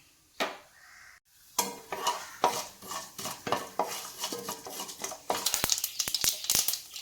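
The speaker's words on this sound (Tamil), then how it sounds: "கடுகு வெடிக்கும்" Rapid irregular crackling and popping, close up, with sharp transients that grow denser toward the end, as mustard seeds splutter in hot oil.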